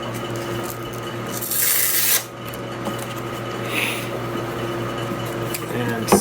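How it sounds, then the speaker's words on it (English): Sandpaper rubs back and forth across a wooden piece for a sailboat companionway, a steady close rasping with a brief louder stroke, over a low background hum. "sand off the rest"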